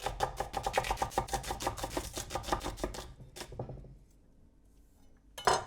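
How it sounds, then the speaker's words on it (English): Two medium onions roughly chopped with a knife on a board, a quick run of steady, evenly spaced cuts for about three seconds, then a pause and one last sharp knock. "2 medium-sized onions and I am going to just roughly chop them up"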